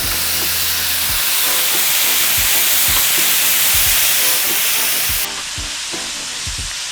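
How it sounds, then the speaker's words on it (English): Tomatoes fry in a hot sauté pan for a bucatini all'Amatriciana sauce, giving a steady, loud sizzle and hiss throughout. Occasional low knocks and stirring clatter sound over it, and the sizzle drops slightly near the end. "I'm gonna go ahead and add my tomatoes to the saute pan."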